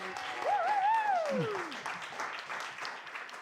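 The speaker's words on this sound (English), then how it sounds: "massive round of applause for Anzia, everybody" Audience applause for a performer at a song night, a broad steady wash of clapping with a sliding whistle-like tone cutting through near the start, fading slightly toward the end.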